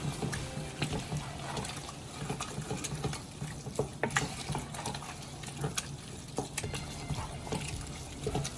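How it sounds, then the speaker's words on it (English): Spices are being folded into keema in a pan, with soft, irregular wet patters and scrapes over a low, steady sizzle, all fairly quiet. "Just gonna fold it in."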